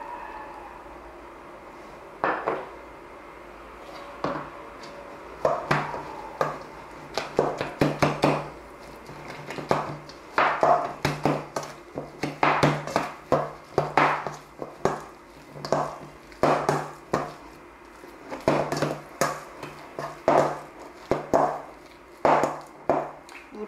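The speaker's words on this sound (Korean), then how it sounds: "반죽 가루가 보이지 않을 때까지 스크래퍼로 계속 섞어주시면 됩니다" A plastic scraper mixes egg tart dough with added water in a bowl, making repeated soft taps and scrapes in an uneven rhythm that grow busier toward the end, close and fairly quiet.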